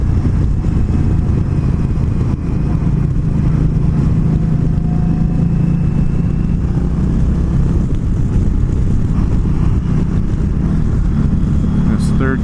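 An Indian Scout motorcycle engine pulls steadily, rising in pitch as it rolls on in fourth gear toward highway speed, with wind rush and a rider talking over the ride.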